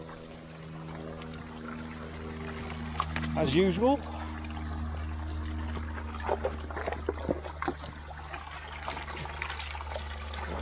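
A small moorland stream on Beeley Moor in Derbyshire trickles and babbles steadily throughout, with a low hum underneath and brief voices partway through.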